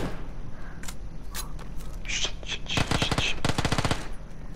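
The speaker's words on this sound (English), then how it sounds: "I'm getting shot." Gunfire in the video game PUBG: a few scattered single shots followed by rapid bursts of automatic fire, sharp and close, with clattering mechanical sounds between them.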